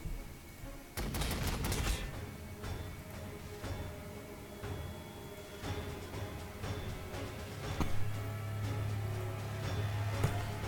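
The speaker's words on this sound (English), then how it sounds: "The Lehman Russ should be able to get a much better hit with the battle cannon or the las cannon." Leman Russ tank firing its battle cannon in a Warhammer 40,000 strategy game, a string of sharp booming blasts and gunfire cracks spread across a rumbling battlefield backdrop, moderately loud with no talk.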